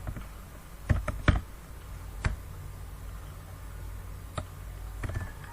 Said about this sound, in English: So we just type reference,